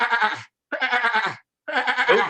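A person's voice imitates a goat's frantic braying, producing three loud, harsh bleating bursts separated by short silences, each wavering and strained like an agitated animal.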